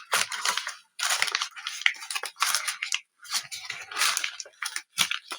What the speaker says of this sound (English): This is just me scrunching it.